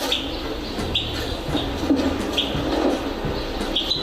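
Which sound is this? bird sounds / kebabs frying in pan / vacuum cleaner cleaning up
bird sounds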